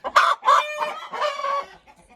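Laying hens cluck loudly and close by in a few drawn-out, tonal calls over about two seconds, with no voices in between.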